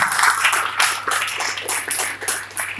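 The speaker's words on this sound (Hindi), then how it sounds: "केसी वर्मा जी के लिए जोरदार ताली होना चाहिए।" Audience applause at a motivational seminar-style event, a sustained crowd clapping texture with uneven bursts, moderately loud and fairly close throughout.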